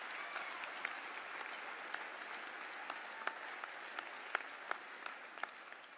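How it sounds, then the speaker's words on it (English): Audience applause at a university graduation ceremony for the School of Arts and Media, a steady wash of many hands clapping in a large hall with a few louder claps standing out, and no talk over it. "I think that deserves a clap."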